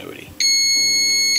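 A multimeter continuity tester gives a sudden sustained electronic tone while probing the terminals of a 12 volt DPDT switch, loud and close, following a brief muffled handling sound.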